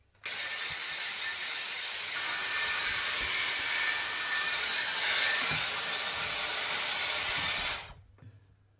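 A hair straightener with a brush head attachment runs through hair as one steady, close airy hiss that holds for about seven seconds, then cuts off abruptly, with no talking.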